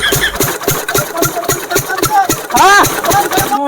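An engine runs with an even, rapid knocking rhythm of sharp pulses, loud and near, and its pitch rises and falls briefly as someone speaks over it near the end.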